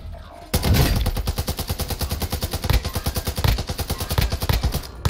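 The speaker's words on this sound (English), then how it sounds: "I think someone else was shooting him with me" Rapid automatic gunfire from a Scar-H rifle during a Call of Duty Warzone Plunder shootout, loud and close, with sustained bursts of evenly spaced shots running almost the entire time after a brief quiet start.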